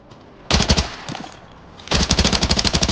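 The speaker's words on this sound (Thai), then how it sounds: "เฮ้ย มีคนยิงผม ยิงผมไม่โดน" Automatic gunfire aimed at the player in the shooter game Arena Breakout: a loud rapid burst of shots, a brief pause, then another sustained rapid burst, close and sharp.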